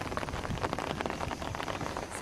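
Rain falls at a beach on Mantanani island, a soft, steady patter and hiss with scattered drop ticks, fairly faint and close, with no voices.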